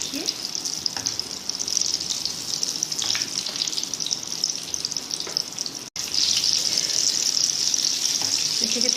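Cajun chicken croquettes frying in hot oil give a steady, bright sizzle that runs continuously, loud and close, with a brief dropout partway through.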